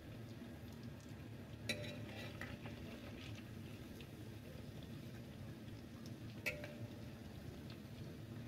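Egg tofu fries quietly in hot oil in a home kitchen, a soft steady sizzle going throughout, broken by two faint utensil clinks.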